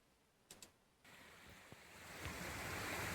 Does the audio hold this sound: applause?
no